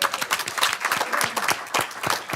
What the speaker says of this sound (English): If I could get a round of applause for the work that we do.